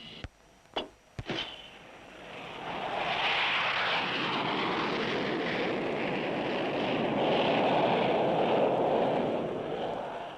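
A fixed-wing aircraft lands on a carrier flight deck with its hook down: a few sharp clanks at the start, then a rising, sustained engine roar mixed with wind that holds steady to the end.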